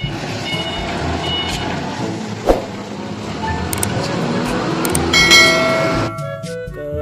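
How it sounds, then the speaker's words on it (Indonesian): A forklift's reversing alarm beeps in a steady repeated rhythm, fairly close, over a background of engine rumble and other vehicle noise. "forklift."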